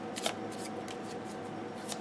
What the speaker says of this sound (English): I just wanted to be able to shuffle the cards